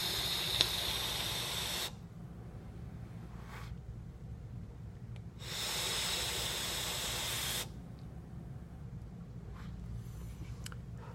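A vape tank on an Osmosis Gold Plaque, 0.14 ohm mesh coil at 60 watts, gives two long bright airflow hisses of about two and five seconds, close and steady, with quieter rushing between and after.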